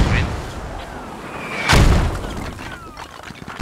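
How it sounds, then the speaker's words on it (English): A mortar shell explodes in a video game battle: one heavy, close boom lands midway, surrounded by fainter scattered battlefield noise. "mortars are now coming in"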